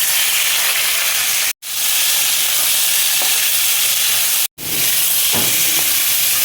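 Chopped jackfruit frying in hot mustard oil in a wok, a loud, close, continuous sizzle with a few brief clinks, interrupted by two short cuts to silence.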